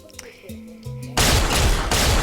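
A burst of rapid electronic laser-gun fire from a modded video game, loud and dense, following a few soft synthetic tones.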